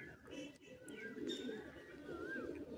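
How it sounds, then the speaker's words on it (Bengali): Male Phulshira fancy pigeon cooing in a low, soft murmur, continuous and faint, with no one talking over it. "ফুলশিরা পায়রা।"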